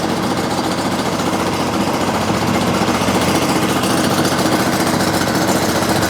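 A DiamaPro Systems ROG-60 grinding machine idles with a steady, loud, rattling engine drone that holds even throughout, close by and with no voices.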